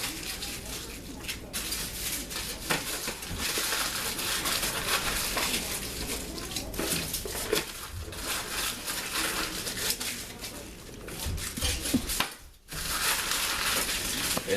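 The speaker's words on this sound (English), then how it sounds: "We're going to wrap these up in foil like so." Sheets of aluminium foil crinkle and crush as salmon fillets are wrapped by hand in a home kitchen, a steady close-up rustling that runs throughout with a brief pause near the end.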